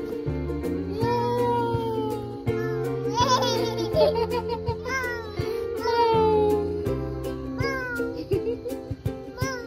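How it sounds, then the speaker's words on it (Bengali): Several drawn-out cat meows rise and fall over continuous music in the background, close to the listener and clearly audible. "দেখো একটা বিড়াল।"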